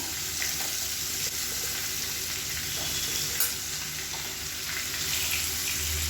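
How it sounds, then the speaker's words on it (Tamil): Paneer cubes frying in oil for paneer masala, a steady, even sizzle with faint stirring, no talking. "இந்த பன்னீரை வந்து இந்த எண்ணெயில் சேர்த்து நல்லா ஃப்ரை பண்ணி எடுத்துக்கலாம்."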